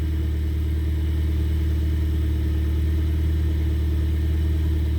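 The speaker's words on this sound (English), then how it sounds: "I'm gonna wait until the car's fully warmed up and then see what it does." A car engine idles steadily while warming up, with a continuous low rumble and faint clatter, loud and close, with no voices.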